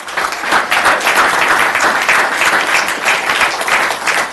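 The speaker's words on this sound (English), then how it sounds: "give them a round of applause for all of them serving our city" A crowd at a city council meeting applauds steadily, dense clapping that stays loud and even throughout without any talking.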